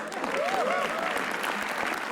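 Steady, dense audience applause at a comedy roast, cheering for a performer named Azim, with a voice talking briefly over it.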